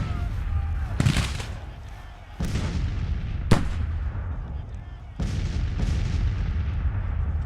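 Artillery cannon fire in the Civil War strategy game Grand Tactician: The Civil War, with several deep booming shots spaced a second or two apart, one sharp crack among them, over a steady low rumble of battle.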